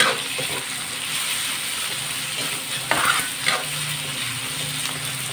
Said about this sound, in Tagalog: Paputihin muna natin itong pork natin.